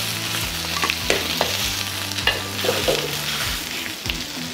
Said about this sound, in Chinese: 先落咗油先，其实我哋煎下鸡翼咧